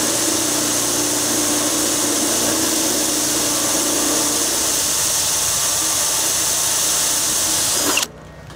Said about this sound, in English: I'm gonna be real careful not to over drill this